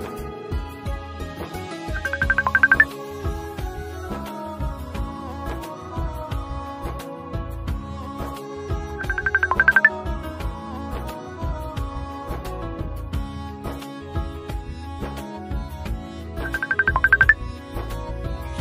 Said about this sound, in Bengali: কে এত ফোন দেয় তোমাকে দেখি?